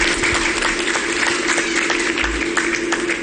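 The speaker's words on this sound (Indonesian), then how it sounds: "Tepuk tangannya mana?" Steady applause from an audience at a religious sholawat gathering broadcast by a local Banyuwangi television station, a dense continuous clatter of many hands clapping throughout with no voices over it.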